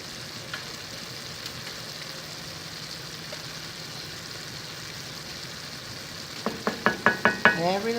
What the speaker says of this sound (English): So here she's putting in the diced garlic.